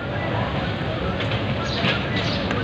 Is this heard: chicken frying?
no